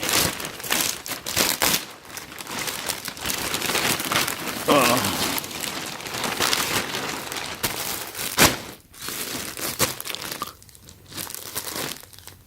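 Plastic shipping bag crinkling and rustling during an unboxing of soft throw blankets, with close, irregular bursts of crackle and crumple, some sharper tearing-like rustles, and brief pauses.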